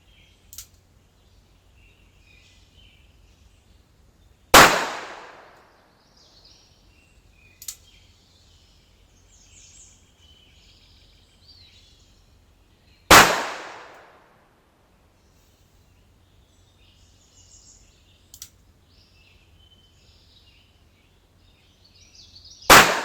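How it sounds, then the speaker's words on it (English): Smith & Wesson Model 19 revolver firing wadcutter rounds outdoors: three sharp, loud shots spaced several seconds apart, each with a decaying echo, plus faint clicks in between. "let's go out and take a few shots. We're going to be shooting some wad cutters"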